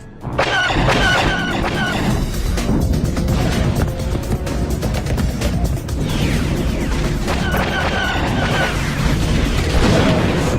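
Starship cannons fire and explosions boom in an animated Star Wars: The Clone Wars space battle, a loud dense barrage of blasts, crashes and rumbling impacts that carries on without pause throughout.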